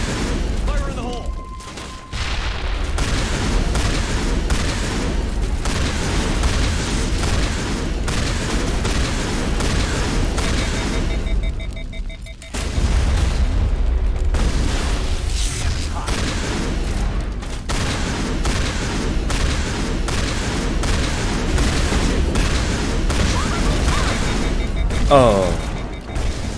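Repeated heavy booms and gunfire-like bursts from a Mass Effect Legendary Edition battle, loud and dense for most of the stretch, with grenade blasts mixed into continuous combat noise and brief lulls.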